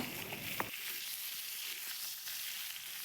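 A few potatoes frying in a pan give a quiet, steady sizzle throughout, with one faint tap near the start.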